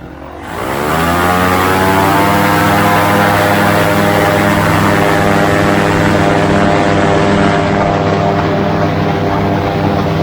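A light propeller aircraft's engine spools up for takeoff, a steady droning buzz rising quickly then holding loud and constant with strong engine harmonics, close by and without talk.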